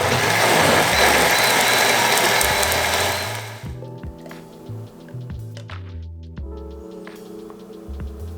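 A blender roars loudly for about three seconds while mixing a shake of banana, whey protein, peanut butter and oats, then cuts off abruptly, giving way to soft background music.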